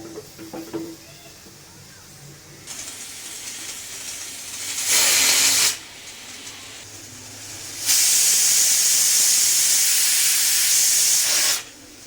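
A pressure cooker on a gas stove, cooking soybean pulao, blows two loud steam whistles, a short burst and then a long one lasting about four seconds, with softer hissing between them.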